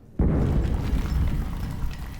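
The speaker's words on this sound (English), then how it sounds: "once in a while, there's an explosion" A sudden explosion in the horror game Amnesia: The Bunker hits after brief quiet: a loud, heavy boom with deep low-end rumble that keeps rolling for about two seconds, with no voices.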